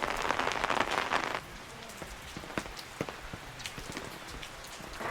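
Steady rain pours outdoors on a mountainside, a dense heavy patter at first that drops after about a second and a half to a lighter, even downpour with scattered drips landing close by.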